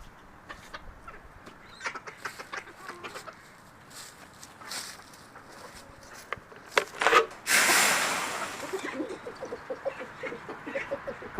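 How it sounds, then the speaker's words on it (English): Chickens clucking and murmuring nearby in a farmyard, scattered soft calls throughout with a brief louder burst of flapping or scuffling midway, no talk. "Okay, here's the chickens."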